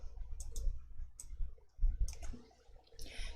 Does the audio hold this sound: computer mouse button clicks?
yes